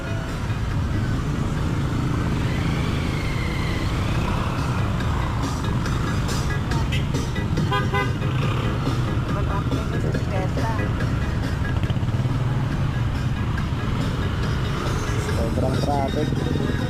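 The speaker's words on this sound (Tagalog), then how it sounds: "Sobrang traffic." Dense street traffic during a town fiesta in Camarines Norte, a steady rumble of cars, trucks and motorcycles with scattered horn beeps, people talking over the constant din.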